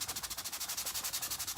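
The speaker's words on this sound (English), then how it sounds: "Just sanding off this orange." Sandpaper rubs off orange paint from a craft piece, a brisk rapid back-and-forth rasping in a steady quick rhythm, close and alone without talk.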